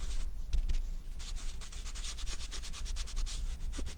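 Embossing powder rubbed onto a card-making craft project, a steady dry scratchy rubbing with repeated short strokes, close up and alone with no talk.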